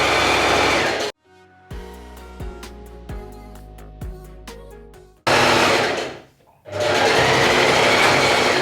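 Sewing machine stitching a waist-tie channel in a gathered summer top, loud continuous motor whir for a second, then a gap with several clicks and taps, then two more bursts of fast whirring stitching.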